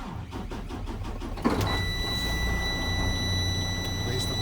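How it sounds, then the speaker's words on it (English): A truck's engine cranks and fires during a Class A pre-trip safe start, with a rhythmic starter churn followed by a sudden catch into a steady, rumbling idle, a high whine and a dashboard buzzer tone lingering alongside. "I'm going to do a safe start on the vehicle."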